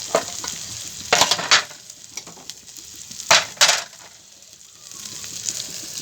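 Tamarind water hits browned onions frying in a pan and bursts into loud hissing sizzles, two sharp surges over a steady background crackle of the cooking.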